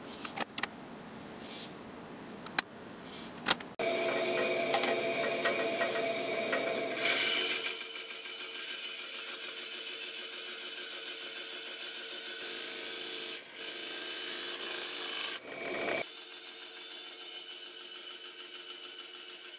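A bandsaw cuts a rectangle from HDPE plastic. The blade gives a steady, moderately loud rasping buzz that runs for most of the stretch after a few clicks and handling knocks at the start, with slight shifts in load and no talk.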